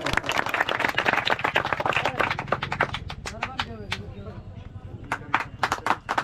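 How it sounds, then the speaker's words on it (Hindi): An audience at a cricket semi-final awards ceremony claps in a lively burst that thins into scattered claps, then picks up again, with a voice speaking over the applause. "इसके लिए जोरदार ताली"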